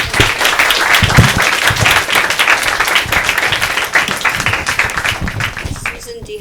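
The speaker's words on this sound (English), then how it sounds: "I'd like to just give her a round of applause." Audience at a student and faculty panel applauding steadily, a dense, even wash of many hands clapping nearby that holds for several seconds before thinning at the end.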